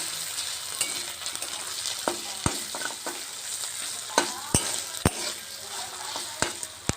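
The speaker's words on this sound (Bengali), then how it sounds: "কেটে রাখা টমেটোটা দিয়ে দেব আর আমি আদা বাটা পরিমাণ মতো দিয়ে দিলাম সব একসাথে আমি ভালো করে ভেজে নেব মশলাটা" Chopped tomato, ginger paste and spices fry in a pan for a soybean curry, a steady close sizzle broken by sharp clinks and scrapes as a utensil stirs.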